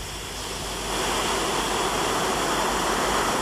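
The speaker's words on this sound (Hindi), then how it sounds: "अरेबियन सी की थिरकती लहरें और फोमिंग वाटर्स यात्रियों का मन लुभा लेते हैं" Arabian Sea waves roll and foam onto a beach at Ahmedpur Mandvi near Somnath, a loud, steady wash of surf that swells slightly and carries no voices.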